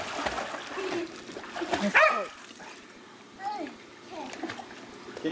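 A dog named Mickey splashes about in a backyard swimming pool, with bursts of water splashing, a few yips and whimpers, and children and adults talking nearby.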